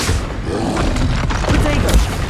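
Spell explosions in the Hogwarts Legacy video game during a troll fight: repeated booming blasts and thuds under a steady, noisy game mix, with short bursts landing in quick succession.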